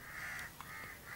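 Crows caw overhead outdoors at an air rifle shooting range, giving faint, distant calls in a short series, with quiet ambience and no speech.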